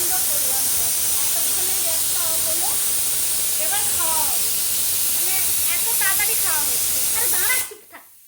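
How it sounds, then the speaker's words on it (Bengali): A pressure cooker on the stove while pasta cooks gives off a loud, continuous rushing hiss of escaping steam that lasts several seconds before cutting off, with a voice talking over it. "এই যে সিটি উঠছে"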